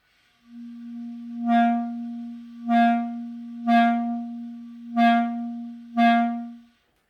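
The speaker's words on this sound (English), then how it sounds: "provide some accents without tonguing and only with the core muscles moving" A steady low wind-instrument note held for several seconds, pushed into five evenly spaced breathy swells from core muscles without tonguing, without any break in the tone.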